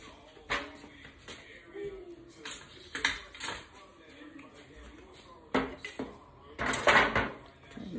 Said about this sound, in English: We're gonna get our baking pan out.